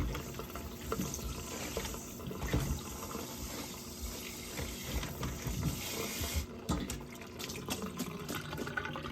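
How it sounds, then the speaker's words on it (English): Running tap water rinses freshly peeled potatoes in a kitchen sink, a steady close splashing stream with clunks and knocks as the potatoes are handled, with no talking. "So we're just going to give them a good rinse to get that starch off of them."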